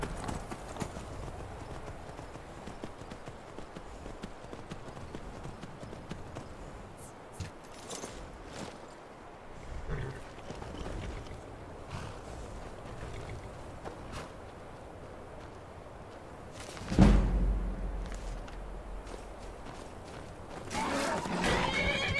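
Horse hooves clop steadily through a Skyrim outdoor scene, with a whinny rising partway through and a louder burst near the end, while someone talks now and then over the game sounds.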